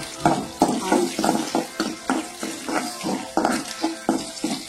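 Spices tempering in ghee for kodo millet pongal, crackling and sizzling in a rapid string of sharp pops over a steady fry, close and fairly loud.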